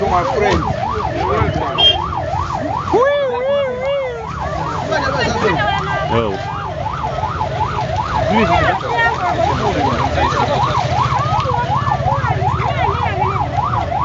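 A police siren wails continuously in a congested traffic jam in Zambia, its rising and falling tone loud and close amid engine and street noise, with brief voices heard.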